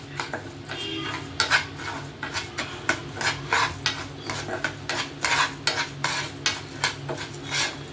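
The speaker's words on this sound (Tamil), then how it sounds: "அடுத்ததாக நம்ம அதே கீழே எடுத்து வச்சுருக்க பாஸ்மதி ரைஸை ஃப்ரை பண்ணிக்க வேண்டியதான்" Basmati rice fries in a pan while a utensil stirs and scrapes it in repeated close, rhythmic strokes over a soft sizzle.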